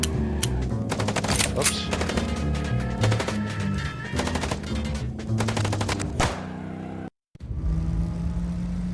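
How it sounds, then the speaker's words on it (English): Rapid bursts of gunfire from a video game car chase in Chicken Police, aimed at a fleeing car's tires, crack loud and repeated over engine noise, then cut out briefly near the end before a steady rumble returns; a voice speaks once. "Trying to shoot out his tires."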